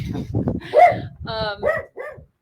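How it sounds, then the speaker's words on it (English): Dogs in a home let out a few close, loud barks and yips in an uneven burst that trails off into short whining tones. "Our dogs might bark."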